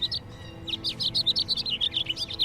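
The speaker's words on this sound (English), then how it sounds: "A group of house finches." A group of house finches chirps in rapid, high, bright notes that come in quick overlapping bursts, fairly close and clear above a quiet outdoor background.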